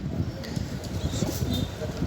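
Lakka pigeons on a pigeon farm coo in low, soft, rolling murmurs, close and continuous against a faint airy background.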